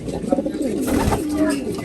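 Pigeons cooing softly, including a female, in a loft setting: low, rolling murmured coos repeating steadily through the short stretch at close range.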